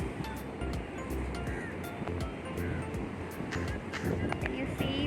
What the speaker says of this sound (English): Sea is quite rough today.